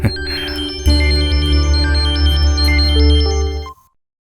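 A mobile phone ringtone in a Tamil-dubbed film scene plays a loud, bright melodic tone pattern for almost four seconds over a low background, then cuts off abruptly.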